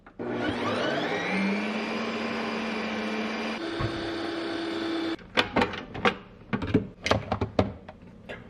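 Ninja Creami ice cream maker grinding protein ice cream: a loud, steady whirring motor whose pitch shifts midway, then stops, followed by a series of sharp knocks and clatters as the machine is handled.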